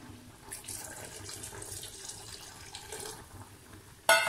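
Water from rinsing a mixer jar is poured into a cooking dish, a soft, steady trickle and splash that runs quietly for several seconds before a brief louder clatter at the end.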